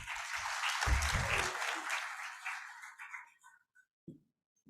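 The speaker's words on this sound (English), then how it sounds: "A stronger round of applause." Audience applause at a KPMG Uganda national budget insights forum, a dense round of clapping that swells, then thins out and dies away into silence with a few last scattered claps.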